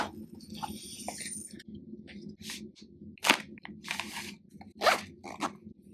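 Crinkling packaging, tearing and rustling with sharp crunches and zipper-like rips, close up, as a box of DJI microphones is opened by hand.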